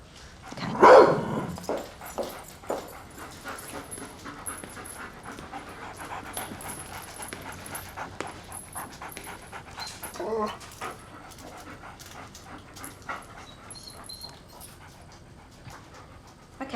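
A detection dog pants and barks loudly near the start during a prison line-up search, then quieter panting and faint movement continue through the rest of the scene.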